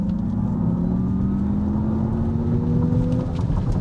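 A 2024 Acura ZDX Type-S accelerates hard on a test drive, a smooth motor whine climbing steadily in pitch over constant road and cabin noise, with no talking.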